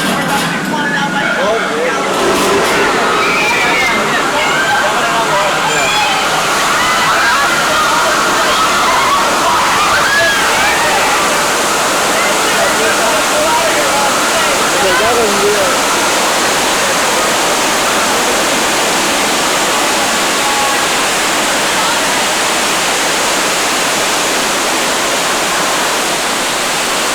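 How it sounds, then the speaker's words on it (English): Rushing flood water roars on a Universal Studios Hollywood tram ride in 1992, a loud, continuous wash of splashing and sloshing that dominates for nearly half a minute as a crowd's voices murmur faintly underneath. "The water pipes are broken around us. We're about to be flooded out by"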